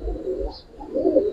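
Pigeons offered for sale, including a Bezi-line pair, cooing close by in soft low rolling bursts, one coo after another with a brief lull between.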